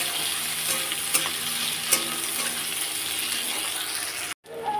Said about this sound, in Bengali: পেঁয়াজটা ভাজা ভাজা করে নিচ্ছি ভালো করে